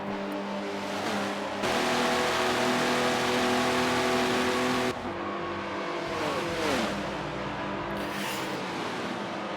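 Prototype race car engines in a racing video game at Daytona roar loudly and continuously, with sustained high revs, an abrupt gear change partway through and another car's engine sweeping past close by.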